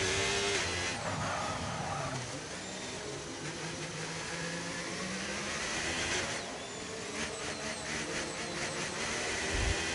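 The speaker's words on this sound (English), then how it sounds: "Just listen to that car struggling for grip on that wet surface this evening" Race car in a racing video game on a wet track at evening, its engine droning and whining continuously with a harsh, wavering tone as the tires fight for grip, loud and steady throughout.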